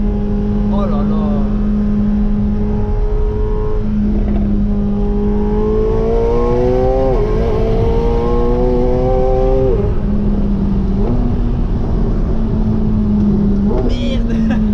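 A legendary car's engine revs and accelerates up through the gears in a steady close drone that rises in pitch, dips, and climbs again, with a voice speaking over it.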